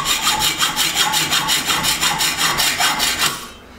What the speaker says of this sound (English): I'll just throw them in my vise here and give them a quick cut